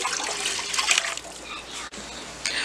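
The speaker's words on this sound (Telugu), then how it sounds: "తీసుకొని 2 గ్లాసెస్ ఆఫ్ వాటర్ పోసుకొని వేడి చేసుకోవాలి." Two glasses of water poured into a pot on a home kitchen stove, a continuous splashing gush that dips briefly and swells again near the end, close and fairly loud with no talking.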